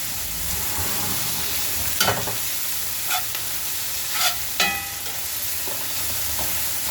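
Food frying in a pan on an electric stove is stirred, a steady loud sizzle broken by several brief scraping strokes of the utensil against the pan, with no speech.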